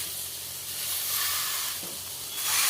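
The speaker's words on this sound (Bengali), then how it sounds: "এই বাটির তালাটা দিয়ে আমি এরকম মাছটা চাপতে দিচ্ছি" Koi fish sizzling in a nearly oil-free pan while pressed down with the bottom of a bowl, a loud, steady close hiss that swells and ebbs, with no talk.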